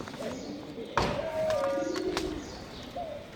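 Doves cooing close by, a few soft low calls with a sharp knock or bump in between, while someone talks quietly in the background.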